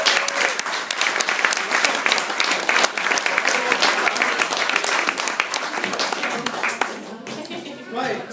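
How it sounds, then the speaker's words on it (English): Wedding guests applaud after a speech praising the bride and bridesmaids, with dense, loud clapping that keeps going and thins near the end, voices mixed in. "please join me in a round of applause"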